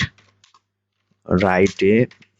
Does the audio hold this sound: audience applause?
no